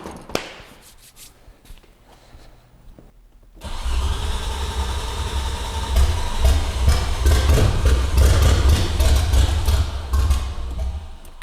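A junkyard Audi 90 Quattro with stale fuel is cranked after a quiet stretch of small clicks and handling noises. Its engine then turns over and runs roughly for the rest of the stretch, growing louder with a deep, rumbling pulse.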